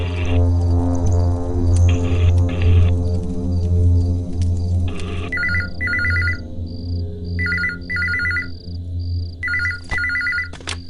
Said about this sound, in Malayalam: ഫോൺ എടുക്കുന്നില്ല.